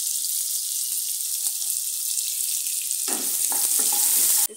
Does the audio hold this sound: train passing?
no